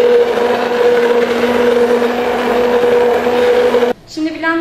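A blender purées a warm milky fig dessert sweetened with sugar, giving a steady loud motor whir with a constant hum for about four seconds before it cuts off abruptly.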